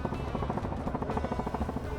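A helicopter flying during a feral hog hunt in Texas, its steady rapid rotor chop filling the air continuously, with a voice speaking over the drone.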